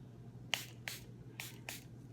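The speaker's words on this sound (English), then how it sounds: "I just want to give it a very light spraying of this coffee" Four quick, soft hisses from a spray bottle misting coffee onto fabric for dyeing, in two pairs, close and fairly quiet over a low background hum.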